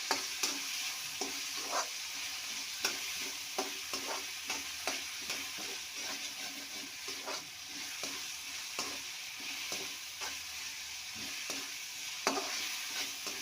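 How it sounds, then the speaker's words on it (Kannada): Boiled field beans fried and stirred in a pan for upma, a steady sizzle throughout with a spoon scraping and clicking against the pan in an irregular rhythm, close and alone with no talk. "ಹೀಗೆ ಮಿಕ್ಸ್ ಮಾಡ್ಕೊಳ್ತಾ ಇರಬೇಕಿಲ್ಲ ಅಂದರೆ ತಳ ಹತ್ತುತ್ತೆ"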